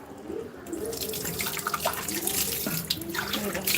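Tap water runs steadily into a sink while a copper pot is rinsed clean, a continuous splashing flow with faint speech in the background.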